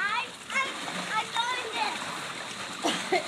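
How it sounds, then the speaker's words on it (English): A person slides into water with a splash, meant to glide in like a dolphin, amid splashing and children's excited shouting nearby. "Slide in the water like a dolphin, Andrew."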